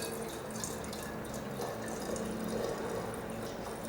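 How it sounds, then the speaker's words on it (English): Homemade kombucha, strained, is poured into recycled glass storage bottles, giving a steady trickling, splashing liquid stream that runs continuously at a moderate level with no talk. "I pour it into these lovely recycled glass storage bottles"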